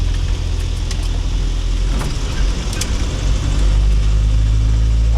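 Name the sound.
Land Rover driving on the road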